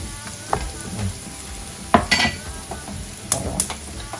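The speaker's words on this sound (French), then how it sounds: "Et je vais leur rajouter un petit morceau de beurre." Potatoes fry in a pan with a small piece of butter, a steady close sizzle broken by a few sharp stirring scrapes and clatters.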